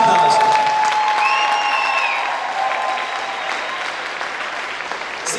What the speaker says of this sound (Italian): E meritano un grandissimo applauso.